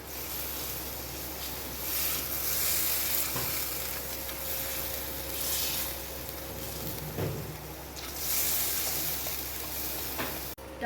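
Spices, salt and chickpea gravy for a Jain chhole with no onion or garlic are stirred in a hot pan, making a steady close sizzle with repeated swishing scrapes of the spoon and no talking.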